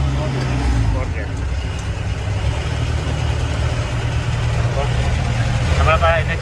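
Mahindra Thar diesel engine idling steadily, a low continuous rumble that holds nearly level throughout, with a few faint higher sounds on top near the end.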